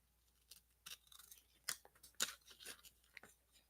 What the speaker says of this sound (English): we're going to go ahead and cut this with my tiny baby scissors that Antoinette loves so much